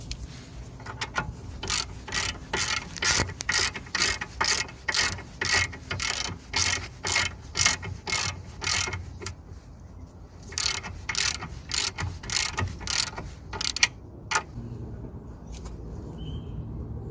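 A ratchet drives the nut onto a Kia Soul tie rod end with steady, evenly spaced clicking strokes, close up, pausing briefly partway through before the rhythmic ratcheting resumes, with no talking.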